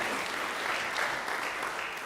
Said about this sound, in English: Applaud for these kids.